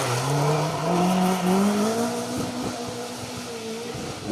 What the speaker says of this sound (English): Wow, that's the car. It's the ex-David Sutton Rothmans Escort